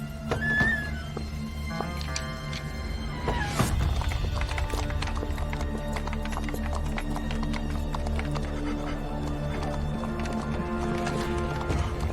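Horses' hooves clip-clop steadily throughout a historical drama scene at a general's residence, with a whinny near the start and rhythmic hoofbeats continuing over low background sound.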